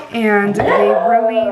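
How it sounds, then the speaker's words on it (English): A dog whimpers and whines in a high, wavering tone, overlapping with a person speaking. "that's my dog communicating"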